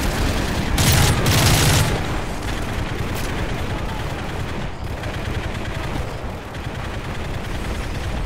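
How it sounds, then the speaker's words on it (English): Heavy gunfire rattles through a Call of Duty: Modern Warfare 3 battle on PC, dense sustained bursts with a louder blast near the start and voices shouting under the shooting. "We're taking heavy fire!"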